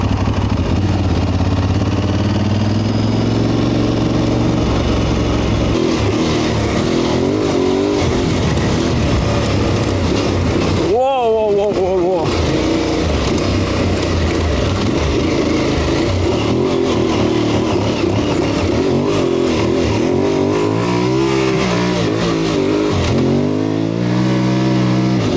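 An Aprilia Tuareg 660 motorcycle, a 660 cc bike, rides through a forest, its engine droning loud and close throughout with rising revs, brief throttle changes and a short lull midway.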